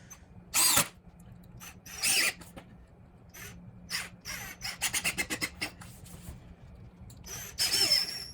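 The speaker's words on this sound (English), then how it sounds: "So I'm gonna get them screwed down. I'll put a screw every foot, just like on the plywood." A power drill drives screws through 2x2 squares into a plywood weightlifting platform, with short whirring bursts and a rapid series of clicks between quieter pauses, close up and with no talking.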